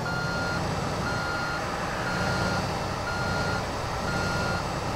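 A dump truck in Construction Simulator 2 backs up with a loud, steady run of evenly spaced reversing beeps over a constant low engine rumble, with no talking.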